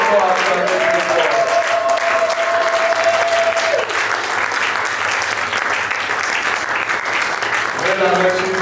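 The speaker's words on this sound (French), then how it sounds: "Est-ce que tu peux encore acclamer le Seigneur?" A church congregation at a Belgian seminary applauds and cheers the Lord, dense sustained clapping and crowd noise with a held musical tone underneath, loud and close throughout.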